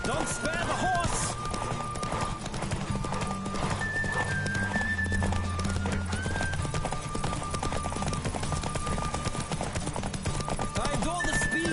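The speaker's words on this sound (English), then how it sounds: "Don't spare the horse." A horse gallops with rapid, rhythmic hoof clip-clops and occasional whinnies, loud and continuous under music and voices.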